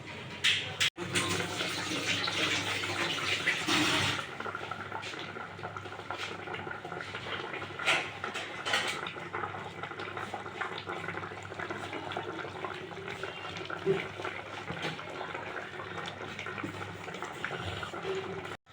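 Rohu fish curry with raw mango bubbling in a pot: a steady, even boil and hiss that carries on without a break, close and moderately loud, with no voices.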